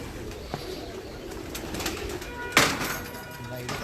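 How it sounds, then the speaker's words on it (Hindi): Teddy pigeons coo in a loft, with soft low calls and a brief flutter of wings among background noise and nearby voices. "ये कबूतर आ रहे हैं डॉक्टर मिर्जा जमील साहब के, ये टैडी कबूतर हैं"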